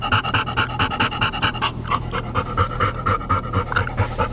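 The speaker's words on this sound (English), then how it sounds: "Are you a happy dog?" A happy dog pants rapidly and steadily, quick rhythmic breaths close to the microphone, loud and alone.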